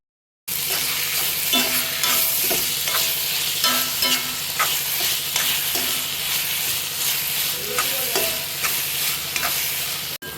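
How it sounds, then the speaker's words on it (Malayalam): Chopped tomato being stirred into a frying beef masala, a steady loud sizzle with repeated scraping strokes of a spoon against the pan, close and continuous with no talking. "ഇനി അരിഞ്ഞു വെച്ചിരിക്കുന്ന തക്കാളി ഇട്ട് കൊടുക്കാം."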